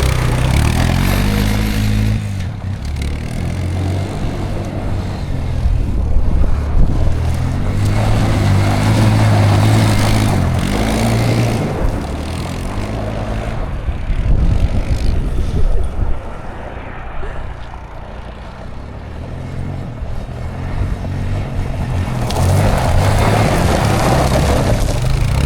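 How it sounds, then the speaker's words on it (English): Four-wheeler ATV engine running on a test drive, a loud, rough buzzing drone that rises and falls as it revs, with brief dips and people talking over it at times. "we are gonna check this four-wheeler out"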